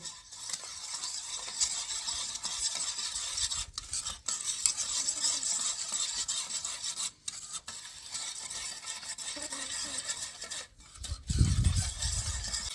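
Orange juice, sugar and arrowroot flour being stirred together in a pot, a steady close scraping, rasping swirl that runs continuously with brief pauses and a heavier knock near the end.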